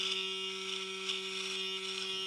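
A Laifen electric razor running during a shave, a steady, even electric buzz with a constant motor hum, close and moderately quiet, with no talk over it.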